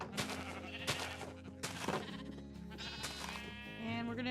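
Minecraft sheep bleat in a quick run of nasal, wavering calls, several overlapping cries close together followed by a longer drawn-out bleat near the end.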